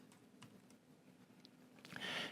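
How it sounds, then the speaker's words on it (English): Soft typing on a computer keyboard while filling in property report fields in Odoo Studio, a few light scattered clicks followed by a brief denser burst of keystrokes near the end, faint and close. "And we can start typing everything we need for this."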